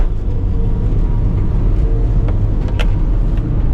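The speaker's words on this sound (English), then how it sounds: "this car drifts so easily" A car drifts with a loud, close engine rumble that stays steady throughout, with a brief sharp sound near the end and no talking.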